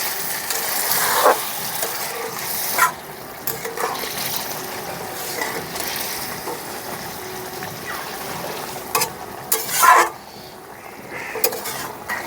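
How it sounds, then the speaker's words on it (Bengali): Water poured into a pan of pangas fish frying in spices for a kosha dish, a gushing hiss and sizzle that swells and falls in bursts, with occasional clinks of utensils against the pot. "এখন দিয়ে দেবো সামান্য একটু জল। জলটা দিয়ে দিচ্ছি।"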